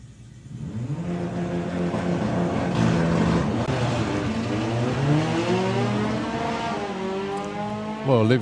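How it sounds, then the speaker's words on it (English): Volkswagen drag car launching at a VW drag racing nationals qualifier, engine revving loudly with rising and falling harmonics as the front tyres scrabble for grip, a sustained close roar over several seconds. "Olivia's front tyres were protesting there, trying not to give her any grip whatsoever"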